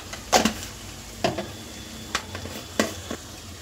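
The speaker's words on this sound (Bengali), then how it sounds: "দিয়ে এটাকে ভালো করে কষাবো।" Ground spices frying and being stirred in a pan of oil for a Bengali fish curry, giving a steady soft sizzle broken by several short, loud scraping stirs spaced through the clip, close by with no talk.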